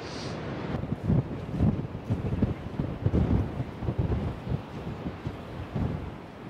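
Strong gusty wind on an open hillside in Bedfordshire, UK, buffets the microphone in heavy low rumbling bursts, steady and loud throughout with no voices.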